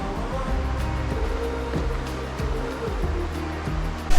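A waterfall on the North Fork in Missouri near Blue Spring gives a steady, loud, close rushing roar of falling water that continues without a break.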